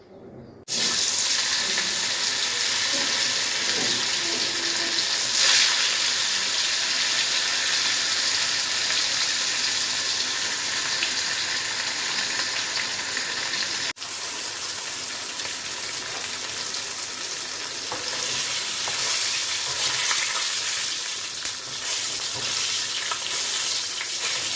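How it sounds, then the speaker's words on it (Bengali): Katla fish sizzle steadily in hot oil in a pan, a loud continuous crackling hiss lasting throughout with no pauses. "এবার আস্তে করে মাছগুলোকে ছেড়ে দেবো"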